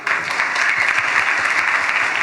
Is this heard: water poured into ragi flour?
no